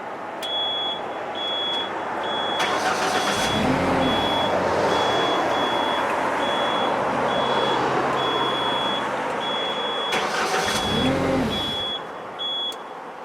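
A man lift's engine cranks over and briefly catches, then dies once the starter disengages; steady engine noise runs through the clip with repeated high beeping tones.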